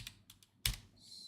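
Typing on a computer keyboard gives a few quiet, scattered key clicks followed by one sharper, louder keystroke, heard close and alone without speech.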